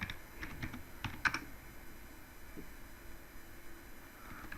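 Quick bursts of keystrokes on a computer keyboard while code is entered for a Git and GitHub tutorial, a few close clicks up front and then sparse taps over a quiet room hum.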